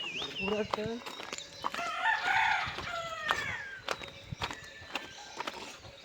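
Chickens cluck close by while a rooster crows, with scattered scuffling steps among the birds.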